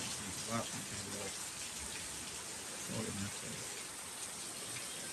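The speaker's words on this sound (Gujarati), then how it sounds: "બહાર એક વરસાદ આવે છે" Steady rain falls outside a house taking in floodwater after a full day of downpour, a constant broadband hiss with faint voices talking underneath.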